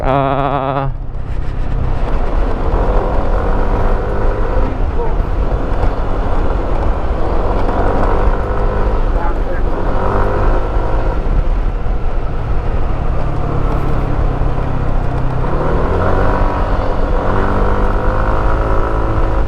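A motorcycle being ridden along a narrow cemented village road in Ragay, Camarines Sur, with a steady droning engine note and wind rumble throughout, a rider's voice talking intermittently over it.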